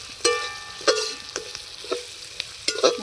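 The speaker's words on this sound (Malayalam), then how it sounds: "കറിവേപ്പില ഉപ്പിട്ട് ഉള്ളിയൊന്ന് വഴന്ന് വരുന്നുണ്ട്" Onion sautéing with curry leaves and salt in a pan, a soft sizzle broken by several short stirring scrapes close by.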